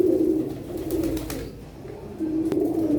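Pigeons on a rooftop give soft, low cooing calls, a few repeated phrases nearby with faint background noise.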